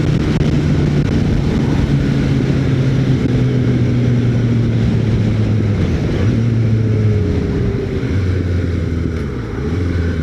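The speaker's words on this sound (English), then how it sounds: "But dude, this wind, oh my god." Heavy, steady wind roar buffeting a microphone while riding a motorcycle, loud and continuous, with a low engine drone running underneath.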